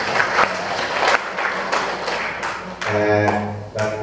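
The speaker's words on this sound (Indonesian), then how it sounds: "Tepuk tangan untuk Pak Ismet." An audience at a capacity-building meeting for Posyandu health cadres in Pekalongan Barat, Pekalongan City, applauds for Pak Ismet with brisk, sustained clapping. A steady tonal hum or music joins partway through.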